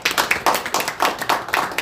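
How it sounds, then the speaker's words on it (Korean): A small group at a press conference claps for a newly introduced official, the sparse claps landing in an uneven, fairly close rhythm over a couple of seconds. "박수 부탁드리겠습니다."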